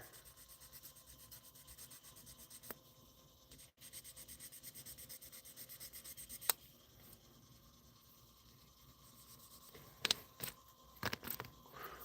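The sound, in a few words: hand sanding with 1000 grit sandpaper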